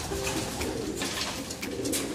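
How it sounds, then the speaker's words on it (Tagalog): A racing pigeon with feathered feet coos softly. It is being prepared for a club race in Cavite. Low, quiet coos repeat a few times against a faint outdoor hiss, with no talking. "talagang masasabi mong pangarerang kalapati talaga."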